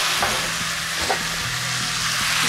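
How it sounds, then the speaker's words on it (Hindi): Beef chilli sautéed in a frying pan gives a loud, steady sizzle, with spoon scrapes and stirring knocks recurring throughout; no voices are heard. "सौटे करें"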